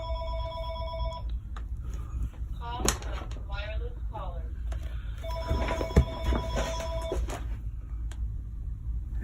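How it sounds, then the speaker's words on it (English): A telephone rings in two bursts of trilling bells over steady room noise, during paper-craft card making with ink and stamps; a voice speaks briefly between the rings. "And my phone is ringing."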